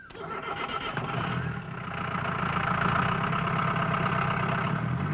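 A vehicle engine cranks and catches, then settles into a steady, moderately loud idle hum that holds for several seconds with no talking.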